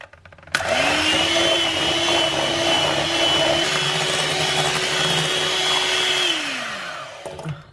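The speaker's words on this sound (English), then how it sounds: "we're just going to whisk this in for now" An electric whisk runs in a bowl, mixing lemon zest and juice into a kefir cheesecake mousse: it starts abruptly with a steady high motor whine that holds for several seconds, then winds down and stops.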